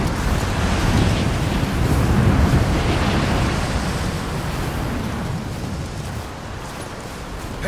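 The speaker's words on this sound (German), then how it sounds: "Dieser Wind ist Wahnsinn." Strong wind roars without pause in the Rise of the Tomb Raider video game, a loud, broad gusting rush like surf that swells and eases slightly with no voices over it.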